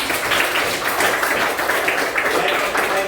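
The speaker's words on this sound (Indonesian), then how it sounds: "tepuk tangan buat kita semua" A classroom group applauds together at the end of a lesson, a dense, continuous wash of clapping heard close.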